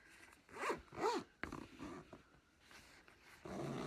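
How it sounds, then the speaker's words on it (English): Zipper on a sewn handbag pulled closed in two quick rising strokes, then softer fabric rustling and handling, close and quiet. "go ahead and zip it up."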